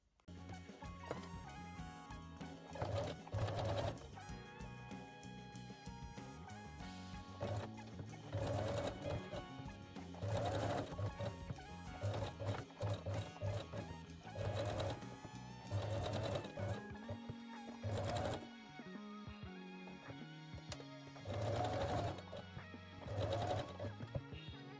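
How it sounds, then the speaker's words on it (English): Sewing machine top stitching a lace edge on a bralette with white thread, a steady close mechanical whirring in long runs broken by short pauses. "I'm using the white threads, and then we will top stitch"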